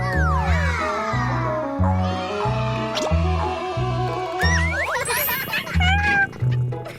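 A cat meows several times in a row, clear close cries rising and falling over a rhythmic musical backing in an animated kids' show.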